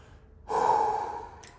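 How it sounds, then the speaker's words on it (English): A single heavy exhale, like a loud sigh, during a chiropractic adjustment session in Lagos, Nigeria, close and alone for about a second. "It's me that's supposed to be doing all this breathing you're doing."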